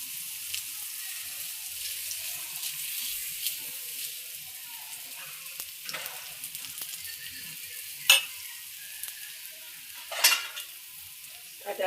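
Cabbage mixture with green chillies, coriander powder, salt and cumin is stirred in a frying pan, giving a soft, faint sizzle with occasional spoon scrapes and clinks against the pan.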